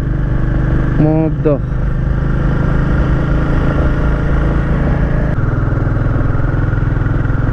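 Motorcycle riding on mountain roads near Kynrem Falls in Cherrapunji, Meghalaya, with a steady loud engine drone and wind rush throughout and someone speaking briefly over it.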